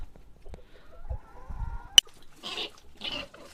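Laying hens outdoors cluck in short bursts, with a single sharp click near the middle, some low handling noise and a faint bird call. The clucks come through moderately loud and close, with no talk.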